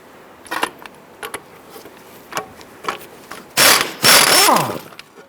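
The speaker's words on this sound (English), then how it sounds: "we're going to use a 24mm socket to loosen and remove this nut." A ratchet fitted with a 24mm socket loosens a suspension knuckle nut on a 1994–2004 Ford Mustang. Short, close clicking bursts come first, then two longer, louder runs of rapid ratcheting near the end.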